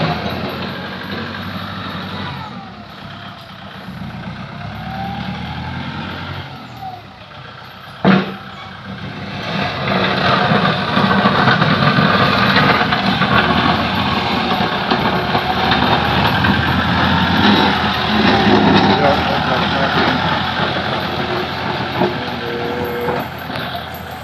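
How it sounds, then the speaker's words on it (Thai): A tractor's heavy diesel engine rumbles steadily up close while grading soil, for a long stretch, with a brief clank midway and continuous mechanical grinding. "ก็ต้องอาศัย รถไถ มาเกรดดินออก"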